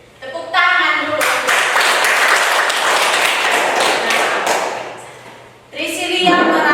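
A classroom of students clapping their hands together, a loud, dense round lasting about five seconds, with a voice speaking briefly just before and right after.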